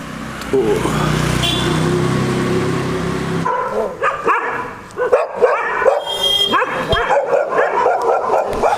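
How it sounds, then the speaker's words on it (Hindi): Several dogs bark at night outdoors, starting partway through with repeated irregular yaps and barks at moderate distance over a steady background hum, with no talking. "तो इतनी रात को बस यहाँ पे कुत्ते ही भौंक रहे हैं"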